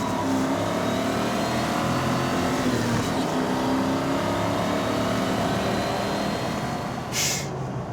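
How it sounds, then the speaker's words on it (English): A 1996 Mustang Cobra pulls hard in first gear, its engine roaring loudly and steadily as revs climb toward redline, close and continuous with no talk. "I can really give you a nice little acceleration run. So we're pulling out, and we're just gonna go 1st gear"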